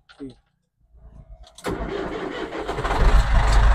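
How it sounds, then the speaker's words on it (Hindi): A Belarus 85 tractor engine cranks and catches, then settles into a loud, steady diesel idle that grows slightly stronger. Brief voices and a few clicks come before the start. "तो भाई आप ट्रैक्टर स्टार्ट कर लो"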